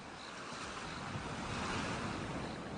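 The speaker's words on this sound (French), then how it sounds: "Apprécie le son des vagues et des oiseaux." Steady wash of ocean waves on a sunny sandy beach, a continuous broadband surf roar with a faint high cry near the start and end that could be gulls, with no voices.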